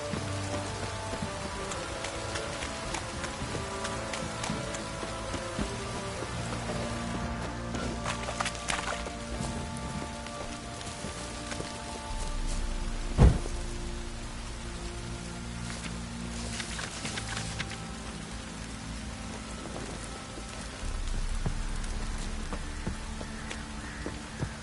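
Steady rain falls across an outdoor scene in The Witcher 3 game world, a continuous soft patter with a few louder knocks and a brief sharp thud partway through, heard mostly alone.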